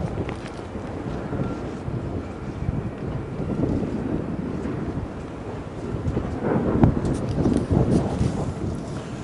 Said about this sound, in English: it's getting a bit windy down here